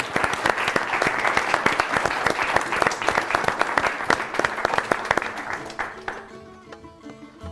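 Studio audience applauding the winner of a televised European Union quiz show, a dense, energetic burst of clapping that holds steady, then thins out and fades over the last moments.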